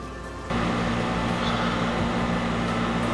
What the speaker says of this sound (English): Please excuse the AC noise.